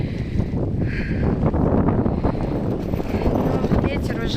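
Strong wind roars steadily at a fishing spot as a storm approaches, buffeting the microphone with a continuous loud rush and gusty rustle while a voice speaks over it.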